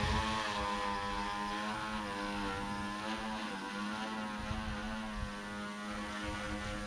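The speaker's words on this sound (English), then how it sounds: "the aircraft accelerated away from me" Small RC VTOL aircraft flying after transitioning to forward flight, its propeller whine a steady harmonic drone with a strong low hum that sweeps slightly in pitch as it speeds away, moderately loud throughout.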